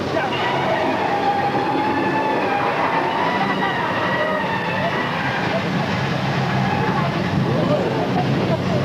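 A train car rumbles and rattles continuously on an earthquake-themed ride, a loud, dense roar with metallic tones throughout, with voices mixed in.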